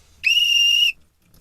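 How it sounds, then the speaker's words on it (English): A single sharp, shrill whistle blast, held steady for under a second, loud and close, then silence. "when I blow my whistle"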